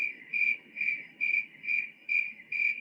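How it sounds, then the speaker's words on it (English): Crickets chirp in an even, regular pulse of about two trills per second, steady and close, alone over a faint quiet background. "literally crickets. Literally crickets."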